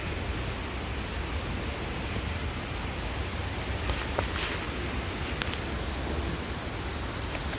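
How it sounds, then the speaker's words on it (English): Constant rushing hiss of a waterfall in a botanical garden, a broad steady wash of falling water at moderate level with faint higher chirps over it. "you can still hear the water. Look at the waterfall."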